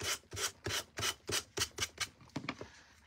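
Sandpaper is rubbed over a rustic autumn pumpkin craft in about ten steady, rhythmic back-and-forth rasping strokes. The sound is close and quiet, and there is no talking.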